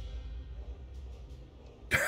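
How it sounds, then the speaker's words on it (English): A single sharp cough bursts out at the very end after a quiet stretch of low room noise, from a man who has a persistent cough. "I still have this terrible, terrible cough"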